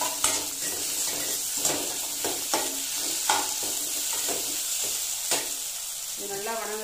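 Ginger garlic paste and curry leaves sauté in a pan for Chettinad egg curry, a close, constant sizzle broken by about eight sharp scrapes and knocks of a spoon against the pan at an uneven pace.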